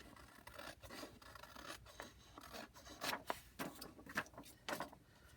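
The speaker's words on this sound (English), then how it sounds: "I do think this time I'm going to cut off my white edges" Scissors snipping white paper edges off an envelope for a junk journal, a series of soft rasping cuts with a few sharper snips near the end, close and fairly quiet with no talking.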